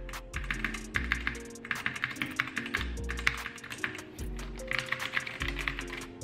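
Someone types on a custom Kraken Pro 60% mechanical keyboard: quick, crisp keystrokes fall in bursts separated by short pauses, up close with no speech.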